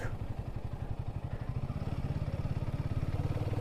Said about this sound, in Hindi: अब बाइक को पार्क करते हैं